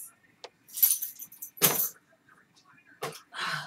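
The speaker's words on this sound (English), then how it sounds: "keys." Keys on a ring jangle in several short metallic bursts near the mic, alongside handling of an olive green satchel crossbody bag with gold hardware, with brief pauses between the rattles.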